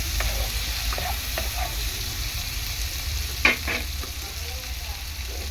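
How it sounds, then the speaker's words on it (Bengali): Potatoes sizzle steadily while being stir-fried in a pan, a constant frying hiss with a few faint scrapes of the spatula and one sharper clink, and no one talking. "আলুটাকে ভালো করে কষিয়ে নেবো এরকমভাবে"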